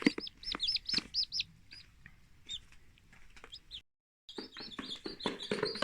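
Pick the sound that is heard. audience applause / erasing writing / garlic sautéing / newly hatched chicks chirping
newly hatched chicks chirping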